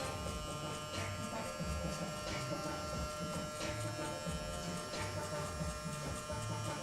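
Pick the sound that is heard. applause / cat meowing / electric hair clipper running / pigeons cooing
electric hair clipper running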